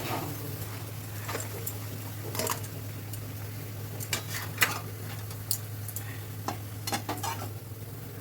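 A spoon stirs curry in a pan just before spinach goes in, making irregular scraping clicks against the metal over a low, steady sizzle and hum.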